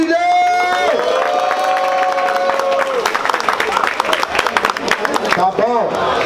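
A crowd at a rap battle erupts in loud cheering, shouting and clapping. A sustained chorus of voices swells, then breaks into dense, continuous applause and whoops close by.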